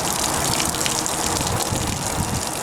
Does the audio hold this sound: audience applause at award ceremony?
no